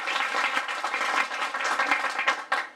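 An audience at a women's group celebration claps in a lively burst of applause, many hands close by with sharp individual claps standing out.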